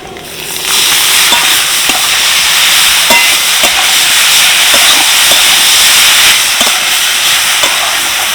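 Grated carrot and beet, crushed ginger and green chili hit a hot pan with a loud, continuous sizzling hiss, stirred with faint regular scraping taps throughout.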